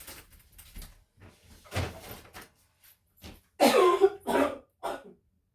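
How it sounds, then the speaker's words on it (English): A few close, harsh coughs and throat clearing, with small shuffling sounds and quiet gaps between them. "I'm going to cough again"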